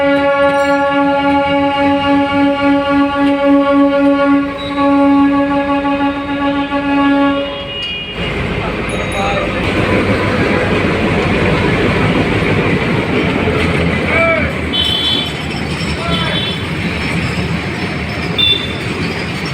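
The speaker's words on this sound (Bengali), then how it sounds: "বন্দরের ভিতরে আসলে সেই তেলের ট্রেনটি প্রবেশ করছে" An oil freight train rolls into a port area beside waiting road vehicles, opening with a long blaring horn, then a loud rumbling of wagons with rhythmic wheel clatter and occasional high squeals close by.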